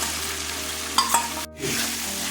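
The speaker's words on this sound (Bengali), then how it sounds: "মশলা পেস্ট করা আমি ছেড়ে দিচ্ছি" Spice paste hits hot oil in a pan while cooking a pea-based dish, giving a steady close sizzle with a couple of brief stirring clinks and a short drop partway through.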